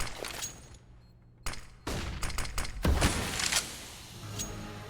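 Gunfire in an esports shooter match, Ignite Esports versus Norte Gaming, with rapid bursts of shots and sharp cracks over a steady game-ambience bed, fairly faint overall.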